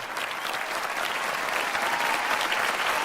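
Audience at a mushaira poetry recital applauds steadily, a dense, even wash of clapping from many hands that holds throughout without a break.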